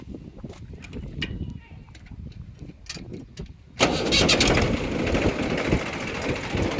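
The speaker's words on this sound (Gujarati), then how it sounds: "એન્જિન સ્ટાર્ટ થઈ ગયું છે." A Mahindra 275 tractor with a freshly overhauled engine cranks and catches, its diesel engine bursting into a loud, steady running roar after a quieter stretch of faint ambient sounds.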